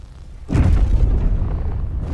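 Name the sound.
railguns firing on a battlecruiser in the video game Space Engineers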